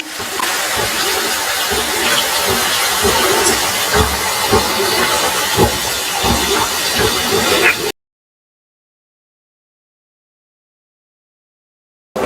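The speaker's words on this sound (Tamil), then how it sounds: "இப்போ வந்து புளி கரைசலை ஊற்றிடுறேன்" Tamarind water poured into a hot pan for a South Indian kuzhambu, producing loud, steady sizzling and hissing for about eight seconds before it stops, with no talking.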